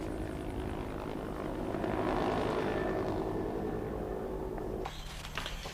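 A military helicopter of the Royal Brunei armed forces, around 1980, flies with a steady droning rotor and engine roar that holds loud, then drops off abruptly near the end.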